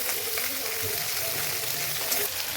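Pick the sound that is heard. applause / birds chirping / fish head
fish head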